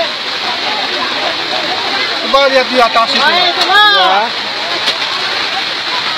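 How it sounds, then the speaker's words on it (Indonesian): Steady heavy rain pours and splashes in a constant wash during a flash flood, with a person talking briefly over it. "Nampak hujan ini"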